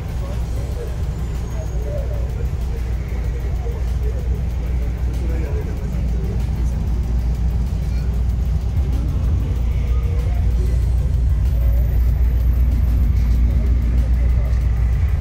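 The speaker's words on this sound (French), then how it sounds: "les voitures continuent à s'avancer" Classic rally cars at the Rallye Auriol Classic creep forward toward the start line, their engines rumbling low and steady for several seconds while people talk nearby.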